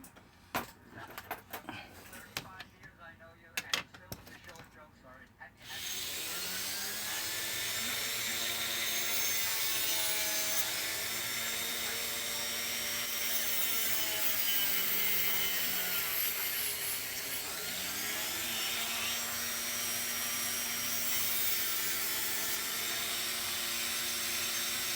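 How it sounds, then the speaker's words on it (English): A Dremel rotary tool grinds a car hood hinge, starting with a few clicks and handling noises. Then comes a loud, sustained high-pitched whine whose pitch wavers as the tool bites into the metal. "I'm going to go ahead and use my Dremel. I'm going to turn it on now"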